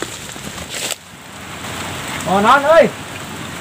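Steady rain hisses down on surfaces outdoors as a shower begins, a continuous wash of drops with a brief voice speaking near the end.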